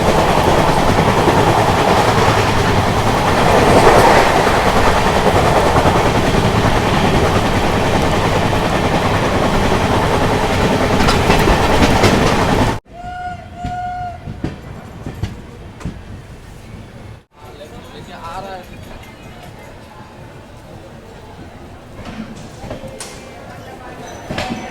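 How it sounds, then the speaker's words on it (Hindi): The Baba Baidyanath Dham Express rolls on the rails with a loud, continuous roar and rattle for about half the span, then cuts to a much quieter interior with scattered knocks and faint rumbling. "और गाड़ी हमारी पहुंच चुकी है बाबा बैद्यनाथ धाम एक्सप्रेस।"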